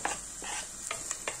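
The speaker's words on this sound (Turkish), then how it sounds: "Sebzeleri iyice kavuruyorum." Chopped onion and two garlic cloves frying in heated oil in a pot, a steady faint sizzle broken by several short stirring scrapes, close and alone.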